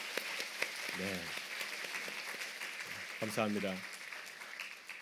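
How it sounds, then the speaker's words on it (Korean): A church congregation claps steadily to welcome a new member at a Sunday worship service, with a moderate, even patter running under a voice as he speaks briefly. "우리가 큰 박수로 환영하겠습니다"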